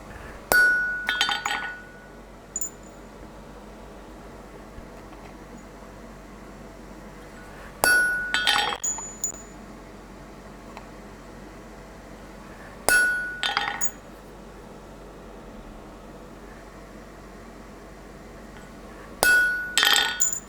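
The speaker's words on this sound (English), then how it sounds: "now I need some number stamps." A hammer drives number stamps into a hot steel chisel in separate bursts. Each burst is a short cluster of sharp metallic clinks and rings, spaced several seconds apart over a low background hum.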